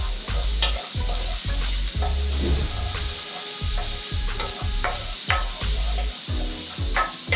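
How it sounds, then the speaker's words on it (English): Peppers and shallot with fresh herbs sauté over medium-high heat in a pan, a close, steady sizzle broken by repeated rhythmic scraping strokes of a utensil stirring the vegetables. "We're gonna go ahead and saute that over medium-high heat"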